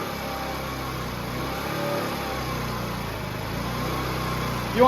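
A 50cc moped engine with a bad idle runs steadily while warming up, giving a continuous, fairly loud buzzing drone at close range with no talking.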